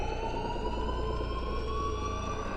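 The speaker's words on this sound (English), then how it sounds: "the only thing we the audience hear is a persistent alarm siren" A continuous alarm siren wails steadily at a moderate distance, its tone holding without pause over a low background hum.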